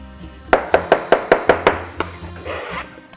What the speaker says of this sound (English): Okay, snipping fresh thyme.